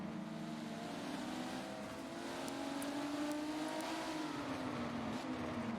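Race car engines drone continuously around Brands Hatch in a racing video game, a steady whine with a pitch that rises and falls gently through gear changes, alone without talk.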